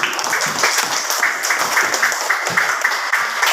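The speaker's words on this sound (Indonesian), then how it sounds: "Tepuk tangan dulu semuanya" A class of students claps together during a lesson, a loud, close, dense patter of many small hands with a slightly uneven rhythm throughout the short burst.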